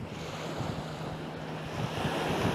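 Sea waves washing over bare feet on a sandy beach near Hua Hin, Thailand, a steady close wash of surf with wind buffeting the microphone, continuous and fairly loud with no talk.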